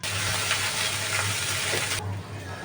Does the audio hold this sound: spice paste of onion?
yes